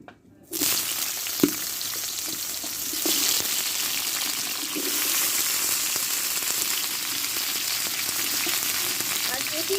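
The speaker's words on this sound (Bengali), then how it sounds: "তেলটা দিয়ে এবার আমি সব সবজিগুলো আমি দিয়ে দেবো একসঙ্গে" Mixed vegetables for a Bengali bitter stew drop into hot oil in a wok and erupt into a loud, steady sizzle that continues for several seconds, with occasional clinks and stirring.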